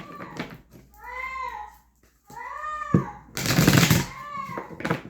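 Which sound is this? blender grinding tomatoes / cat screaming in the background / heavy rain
cat screaming in the background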